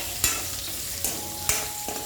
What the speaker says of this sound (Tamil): இனி வானலியில் எண்ணெய் ஊற்றி இந்த பாவக்காய் நல்லா வறுத்தெடுத்து வைக்கணும்.